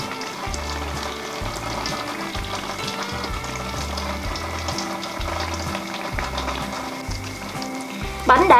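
Bánh tai yến cakes frying in a pan of hot oil, giving off a steady, dense sizzle that runs close and unbroken throughout, with no voices.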